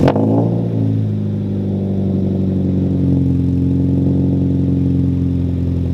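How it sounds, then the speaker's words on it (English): A Subaru BRZ with a louder aftermarket exhaust fires up with a sharp initial blip, then settles into a loud, steady, throaty idle with a deep rumble, heard close and alone. "we're gonna give it some revs just to see how she actually sounds"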